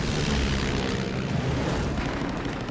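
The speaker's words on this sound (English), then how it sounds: "Marine Lieutenant James Sweat pursues three Japanese Val dive bombers attacking an Allied shipping convoy." A WWII Grumman Wildcat propeller fighter chasing Japanese Val dive bombers over a convoy near Guadalcanal: a loud, continuous roaring drone of aircraft engines, dense and unbroken throughout.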